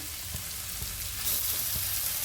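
Prawns frying with spices in a pan for a stuffed pointed gourd dorma, a steady close sizzle that brightens and grows a little louder partway through, with faint stirring taps underneath.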